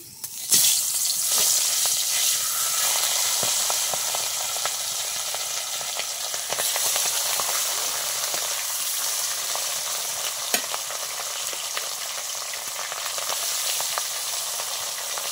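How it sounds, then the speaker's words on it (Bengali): Rohu fish heads and tails frying in hot oil in a kadai, a steady loud sizzle and crackle throughout with occasional sharp pops, no talking. "আমি লেজা মুড়োগুলো আগে ভেজে নেব।"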